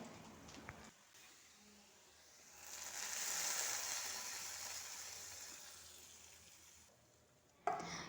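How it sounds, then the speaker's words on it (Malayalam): Curry is poured into a hot pan of tempering with bird's-eye chillies and curry leaves, giving a soft sizzle that swells briefly and then fades to a low simmering hiss. "ഇനി നമുക്ക് കറി ഒഴിച്ചു കൊടുക്കാം"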